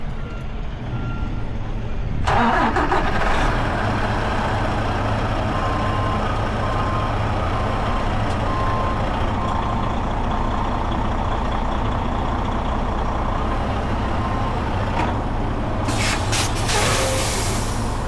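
A semi truck backs up slightly, its steady reversing beeper pulsing over a loud idling diesel engine, with a hiss of air brakes near the start and again near the end, and no talk.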